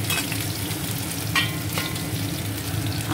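Potatoes fry in a pan in home cooking, browning until reddish. A steady, close, dense sizzle continues throughout with a few brief scraping bursts.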